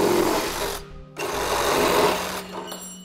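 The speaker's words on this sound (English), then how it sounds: "You can use a reciprocating saw like I got here" A reciprocating saw cuts through a vehicle's plastic rock guard material, its close, loud buzzing rattle stopping briefly once and then running again.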